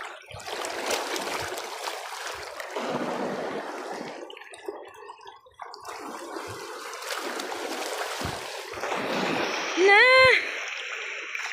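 Waves crash and wash over a rocky shore as a continuous, loud surging rush that swells and eases in broad pulses. Voices are faintly present, with a short high sound near the end.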